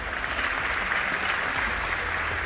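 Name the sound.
applause for Christina at the award ceremony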